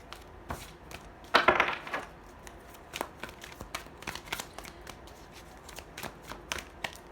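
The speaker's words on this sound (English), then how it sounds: "All these cards flipped over." Tarot cards being flipped and shuffled on a table during a reading, a brisk riffle of papery slaps near the start followed by scattered soft flicks and taps, close and fairly quiet with no talking.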